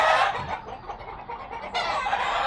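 Chickens cluck and squawk nearby in short, overlapping bursts, with one hen breaking into a louder, drawn-out call.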